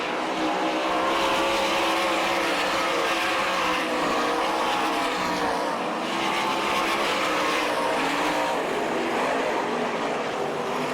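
Sprint cars of the All Star Circuit of Champions racing on a dirt oval at East Bay, Gibsonton, Florida, a steady loud roar of several engines blending together for the whole stretch with no pauses.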